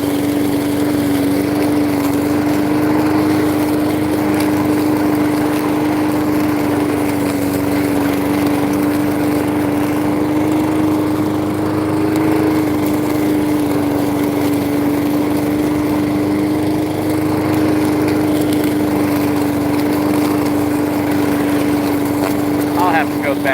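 A push lawn mower runs continuously and loudly close by, its steady engine drone with a constant whine holding without a break across the whole stretch.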